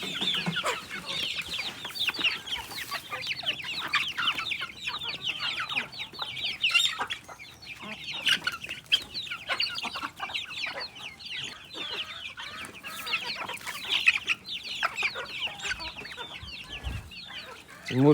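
Chickens and young chicks on a small farm cluck and cheep in repeated bursts, moderately close and fairly quiet, with occasional knocks and rustles in between.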